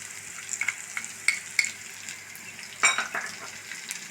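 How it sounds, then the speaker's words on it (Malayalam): Onions fry in a pan with turmeric, chili, coriander and garam masala for a pork dish, a steady close sizzle broken by clinks and scraping stirs of a utensil. "നമ്മൾ വെച്ച സവാളയൊക്കെ ഏതാണ്ട് മീഡിയം ഫ്രൈ ആയിട്ടുണ്ട്"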